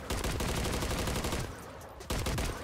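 Custom gunshot effect of the frost blueprint weapon in the video game MW3: a rapid automatic burst of loud, evenly spaced shots, a short pause, then another burst, with no talking.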